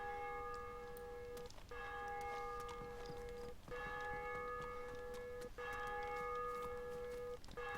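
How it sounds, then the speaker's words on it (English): A church bell rings repeatedly in the survival video game DayZ, its clear, sustained tones struck roughly every two seconds and sounding somewhat distant over a steady background hum. "Oh, is this where the bell's been ringing?"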